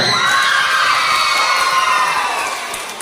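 Primary school children at an Indonesian school closing ceremony for an award presentation shout and cheer together, a loud sustained crowd roar that tapers slightly toward the end.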